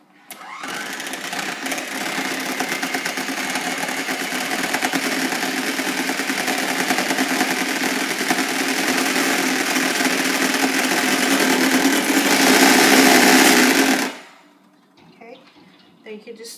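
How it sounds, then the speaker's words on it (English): Kitchen blender whirring steadily for about fourteen seconds as it re-blends watery egg batter for chile rellenos, a loud continuous motor buzz that cuts off abruptly near the end. "You could just blend it again."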